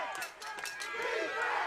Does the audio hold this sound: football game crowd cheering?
yes